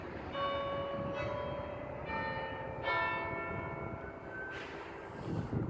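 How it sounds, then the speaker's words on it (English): Church bells ring out in several clear, resonant strikes, overlapping tones hanging in the air at a moderate distance with no voices. "Alright, just wait for the bells."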